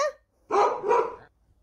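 A cartoon dog in an Arabic voice-over story barks twice in quick succession, close and clear, after a brief clipped sound and followed by silence.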